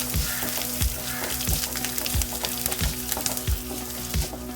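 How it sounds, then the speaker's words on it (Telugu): Curry leaves, green chillies and grated ginger fry in a pan with a loud, constant sizzle. Regular dull knocks, roughly every two-thirds of a second, suggest a spoon striking the pan while stirring. "కరివేపాకు, పచ్చిమిర్చి వేసేసి బాగా ఫ్రై చేసుకోవాలి."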